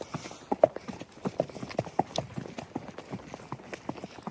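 Hooves of a horse on an early-morning trail ride clop steadily at a relaxed walking rhythm, close and fairly quiet, with light outdoor ambience and no talking.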